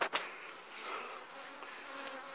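Honeybees buzz densely around an opened beehive during honey extraction, a steady close swarm drone with a few louder passes near the start.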